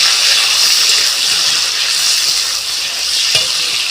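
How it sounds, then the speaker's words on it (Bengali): Loud, steady sizzling of cashews and raisins frying lightly in hot oil, continuous hiss with a faint clink partway through. "এটাকে আমি হালকা করে ভেজে নেব"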